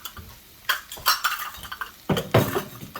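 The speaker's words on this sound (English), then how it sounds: "I can add my rice in here so it can start to get toasty" Uncooked rice added to a pot for chicken and rice, bursts of pattering grains and clattering metal against the pot, a few clustered taps then a louder pour, close and with no talking.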